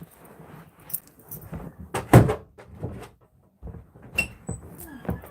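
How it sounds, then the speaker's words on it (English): A door is pushed shut indoors with a sharp, solid thud near the middle, surrounded by lighter handling clatter and small rattles. "Close the door all the way, please."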